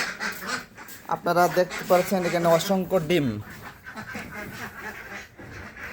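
Ducks quack in a short raspy series near a clutch of laid eggs outdoors, partly under someone talking, with rustling and ambient farm noise around.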